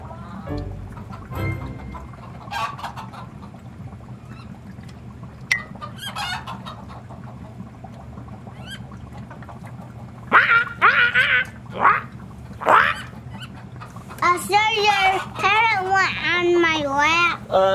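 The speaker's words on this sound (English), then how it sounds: "Sorry, he's just a little parrot." A young parrot makes a string of animal noises, with clucks and squawks that grow louder and busier toward the end, alongside people talking nearby.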